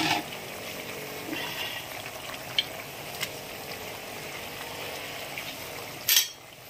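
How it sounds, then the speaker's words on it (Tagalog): A pot of vegetables, including bitter melon and okra, simmers with a steady bubbling hiss, punctuated by a few soft clinks and a brief louder clatter near the end. "Ayan po, kumukulo na."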